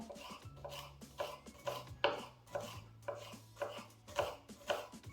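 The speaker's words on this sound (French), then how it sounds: "On hache grossièrement l'échalote." A knife coarsely chops shallot on a cutting board, about nine crisp, evenly spaced thuds close up in a quiet kitchen, with no speech.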